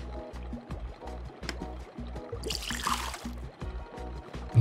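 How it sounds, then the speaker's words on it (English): A robot is filled with water in the Soda Story game: a trickling, pouring splash runs under a steady, rhythmic game music loop, with a brighter gush in the middle. "Do I need to fill you up with water?"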